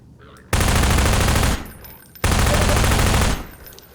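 Gunfire in the video game MINERVA: Metastasis comes as two loud bursts of sustained automatic fire, each lasting about a second, separated by a short pause.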